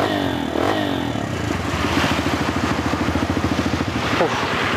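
A Kawasaki KLX motorcycle engine runs nearby, a rapid chugging idle that revs up unevenly, with some clatter and brief voices in the background.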